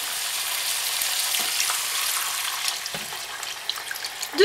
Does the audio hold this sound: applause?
no